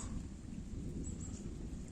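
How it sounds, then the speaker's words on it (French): Rain beginning to fall during an evening carp fishing session by the water, a steady soft wash of drops with low rumbling noise throughout, no voices. "malheureusement pour moi il commence à pleuvoir"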